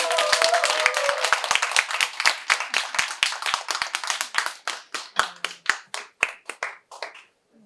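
A church youth gathering's audience claps for a nervous teenage girl about to share her testimony, a dense, loud burst of many hands that thins into fewer, sharper claps and tapers off over several seconds.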